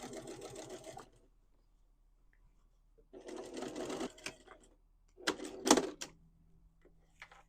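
A sewing machine stitches a pant hem in three separate bursts of rapid mechanical chattering, close and clear, with quiet pauses between runs and no talking.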